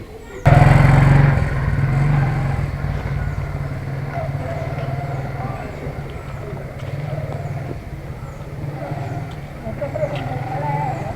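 An old motorbike in Mymensingh rumbles along with a steady low engine drone that starts abruptly and holds throughout, with someone talking over it.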